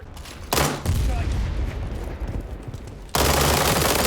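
Bursts of rapid gunfire from an MPX in the video game World War 3 crackle loudly, with a long sustained volley starting midway and a heavier burst near the end, mixed with game sounds.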